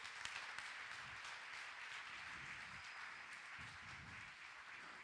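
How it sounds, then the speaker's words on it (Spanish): A church congregation applauds during a Spanish-language sermon, a steady, faint wash of clapping from a crowd that continues evenly throughout without pause. "Le damos un fuerte aplauso al Señor."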